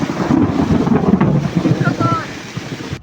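Thunder rumbling amid strong wind and heavy rain while stranded on a roadside under a tree, a dense steady roar of rain and gusts with low rolling thunder, loud and close.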